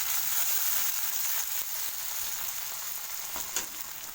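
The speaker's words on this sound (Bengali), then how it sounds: "এবার আমি দিয়ে দেবো টমেটো কুচি। হালকা করে ভেজে নেব।" Chopped tomatoes fry with green chili in a hot pan, a continuous close sizzle with a few faint stirring scrapes and no talking.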